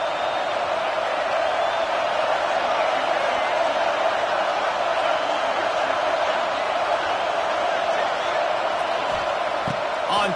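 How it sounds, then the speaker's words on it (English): Stadium crowd roar from College Football 26, a steady dense wash of cheering that holds at full level for the whole stretch with no breaks. "This crowd knows when to bring it."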